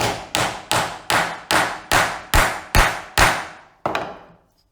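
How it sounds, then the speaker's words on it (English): A hammer taps steadily on a hard fitting, about nine loud, evenly spaced metallic knocks with ringing decay, the final blow slightly delayed, and no talking. "Grab out your trusty hammer this time and just give it a tap in there."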